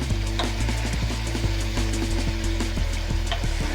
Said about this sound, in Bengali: তেলটা আস্তে আস্তে ছেড়ে যাচ্ছে। ভালো করে আমি কষিয়ে নিই।